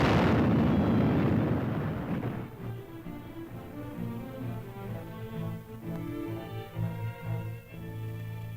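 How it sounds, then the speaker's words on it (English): A blast bringing down an overhanging section of Arctic ice cliff: a loud broadband boom opens the clip, then rumbling debris and a low orchestral soundtrack carry on beneath it. "When an overhanging section of the cliff becomes a hazard to the men working below, it is blasted away."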